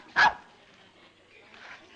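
A dog in a 1940s film gives a single loud, sharp bark near the start, followed by quiet room tone and a faint murmur of background voices.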